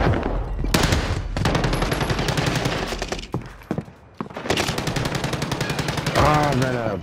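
Rapid automatic gunfire from a Call of Duty video game, loud and close, in long sustained bursts with a brief lull midway, plus a rising whine near the end.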